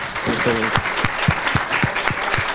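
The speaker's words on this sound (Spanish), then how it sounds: "un aplauso para nuestro maestro" Audience applause for a teacher after a virtual reality talk: dense, loud clapping from a crowd with a steady rhythmic beat running through it, and a brief voice near the start.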